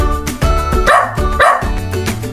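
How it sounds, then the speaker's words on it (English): A playful cartoon dog barks in a children's nursery song, a few bright, loud barks in quick succession over a musical backing. "Next up, we have the playful dog."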